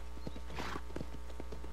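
Hooves of a trained horse in Red Dead Redemption knock in a steady walking rhythm, close and moderately loud over a constant low hum, with a brief breathy snort midway.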